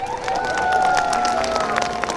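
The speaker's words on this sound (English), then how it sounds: "Let's give another round of applause for our mayor." A crowd at a Paterson autism awareness flag-raising claps and cheers steadily throughout, with a sustained tone ringing underneath the dense applause.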